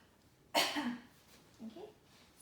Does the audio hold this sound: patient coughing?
yes